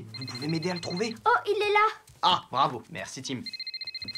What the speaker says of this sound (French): le téléphone du papa de Tony sonne